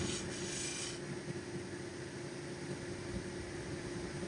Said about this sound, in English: I still got to get the scratches out from that 220 wheel.